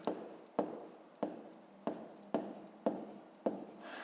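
Pen on paper writing out a fifth-grade math exercise, seven quiet scratchy strokes starting at a regular pace, close and alone.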